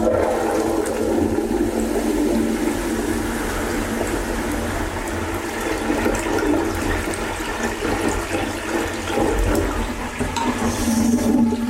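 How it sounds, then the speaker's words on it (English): A toilet flushing after its control stop valve has been changed, a loud, close, continuous rush and gurgle of water running steadily throughout with no talking. "So I actually need to see if I've got a good flush."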